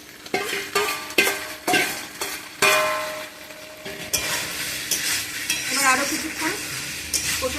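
Previously fried cauliflower being stirred in a hot pan with egg, a spatula scraping and clanking against the metal in uneven strokes over a steady close sizzle.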